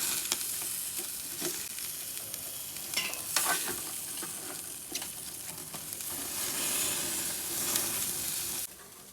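Oil-brushed chicken rumps grilling over charcoal give off a continuous close sizzle, with crackles and pops scattered throughout and a few louder spits, before the sound drops off briefly at the very end.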